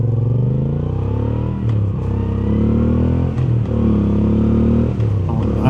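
A 2025 Moto Guzzi V7 Sport motorcycle accelerating through the gears at about half throttle: a loud, close engine note climbs in pitch, with brief dips at each gear change, continuous and without talk.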